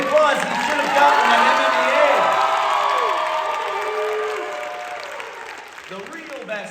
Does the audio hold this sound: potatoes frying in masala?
no